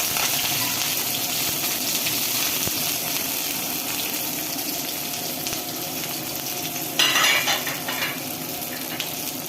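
Prawns frying in hot oil in a home kitchen pan: a steady broadband hiss and sizzle with faint clinks, and a brief louder spattering burst near the end.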